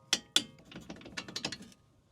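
A ratchet wrench removes strut mounting studs on a 2006–2012 RAV4 4WD, giving two sharp clicks followed by a quick, close series of ratcheting clicks before stopping.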